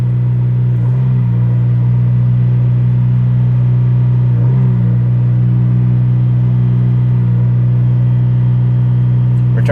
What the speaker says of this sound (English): press the accelerator pedal to the floor so the engine reaches maximum speed during wide open throttle and hold